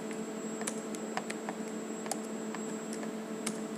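Code being typed on a computer keyboard: quiet, irregular key clicks in quick bursts over a low steady hum, close but faint, with no voices.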